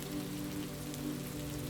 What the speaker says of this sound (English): raindrops continue to tap softly on the glass